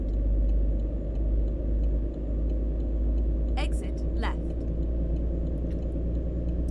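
Truck engine in American Truck Simulator, a steady low drone rumbling throughout the drive under a person talking, with two brief higher chirps midway.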